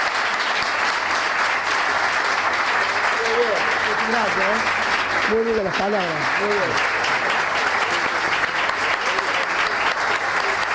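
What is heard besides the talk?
applause for the mayor of São Paulo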